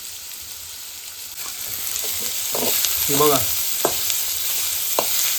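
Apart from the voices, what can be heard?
onion frying in oil in a kadhai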